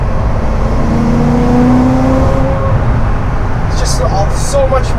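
A gutted BMW E92 M3 track car drives along with a loud, steady engine drone and road roar from inside the cabin, pitch rising and falling, while someone talks over it.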